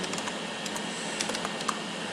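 Light, quick keyboard typing, a scatter of soft clicks at an irregular pace over a faint steady hiss, fairly close.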